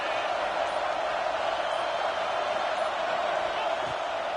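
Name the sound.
stadium crowd cheering in video game NCAA football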